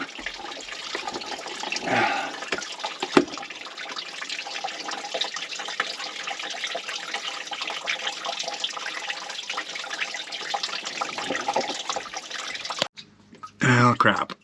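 Fuel drips and trickles steadily off a freshly cleaned fuel tank from a Mercedes R107 450SL in a garage, a continuous close wet patter that cuts out near the end, followed by a brief louder burst.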